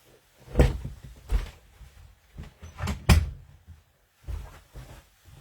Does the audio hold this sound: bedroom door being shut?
yes